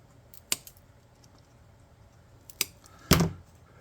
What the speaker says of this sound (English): I'm going to snip those off at kind of